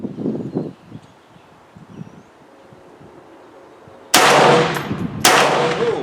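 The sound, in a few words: Palmetto State Armory PSA AKV firing 115 grain Federal ammunition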